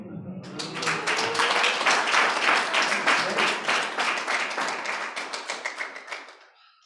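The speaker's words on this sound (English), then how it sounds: "I love the pause before the second applause" Audience at a poetry reading breaks into steady, dense clapping right after a poem, close and loud, holding for several seconds before thinning into a few scattered claps at the end.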